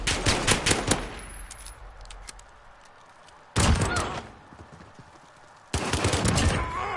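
Bursts of gunfire in a 2v2 video game gunfight, with a dense rapid volley at the start, a quieter stretch, then two more loud bursts of automatic fire, close and punchy.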